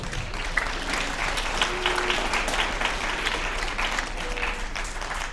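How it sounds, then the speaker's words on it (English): Students at Fremd Writers Week 2020 applaud themselves in a room, a dense, steady wash of many hands clapping close by that holds at even loudness for the whole stretch. "I think you all should give yourselves a big round of applause for that too."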